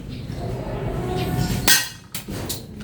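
A pellet from a manual spring-type airsoft toy gun strikes a tin can with a sharp metallic clank, followed by a second, smaller hit, against a steady outdoor background hum.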